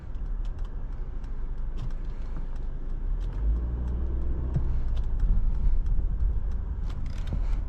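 A 2023 Mercedes-Benz GLE 350 with a 255-horsepower engine accelerates, a low engine rumble swelling gradually beneath steady cabin road noise, with light clicks and rattles and no speech.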